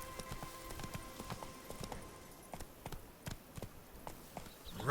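Roach, a horse in The Witcher 3, gallops with steady clip-clop hoofbeats at close range, repeating evenly through the clip and then thinning out before a louder burst at the end.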